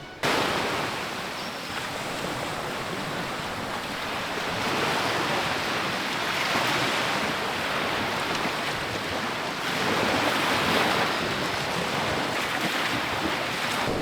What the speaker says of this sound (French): Aujourd'hui, il y a pas mal de vent.